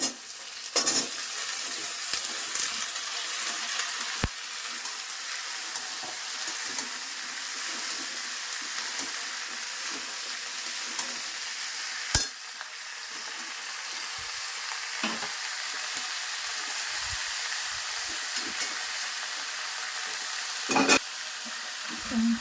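Vegetables fry in a pan with ground cumin, sizzling steadily throughout while a utensil stirs and scrapes, with a few sharp knocks, close and without speech.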